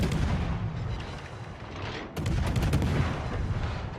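In a World of Warships naval battle, a torpedo strikes a ship with a sudden heavy boom about halfway through, rising over a constant rumbling background of distant gunfire and explosions.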